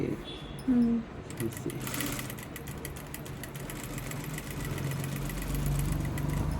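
A sewing machine runs steadily, stitching a seam joint on a side attachment, a continuous mechanical whir with rhythmic ticking, up close with a voice talking at the start.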